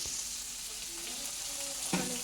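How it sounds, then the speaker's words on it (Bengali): Onions frying in a pan for a mutton curry give a steady, fairly soft sizzle throughout, with a few light clinks and a brief louder scrape near the end. "মাটনের জন্য মা ভালো করে পেঁয়াজটা ভেজে নিচ্ছে"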